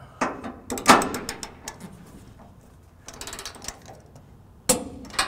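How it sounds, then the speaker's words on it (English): Ratcheting clicks and metallic clanks from a wrench torquing down trailer hitch bolts on a 1991 Chevrolet truck, in short bursts with quiet gaps between them, fairly close. "we'll go ahead and finish torquing down the rest of the bolts"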